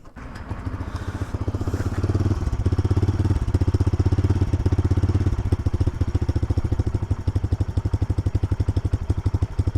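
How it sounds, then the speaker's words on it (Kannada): Bajaj Freedom 125 motorcycle running with its exhaust close by, a steady deep rhythmic thump that gets louder after the first couple of seconds and then holds at one level. "ಬನ್ನಿ ಇದ್ರದ್ದು ಸೈಲೆನ್ಸರ್ ಸೌಂಡ್ ಹೆಂಗಿದೆ ತೋರಿಸ್ತೀನಿ."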